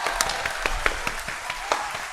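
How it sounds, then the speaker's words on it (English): A few people clap briefly in a podcast studio, welcoming their guests with scattered, close, crisp hand claps over a faint steady room noise. "Let's clap it up for Tony, Brad, and John."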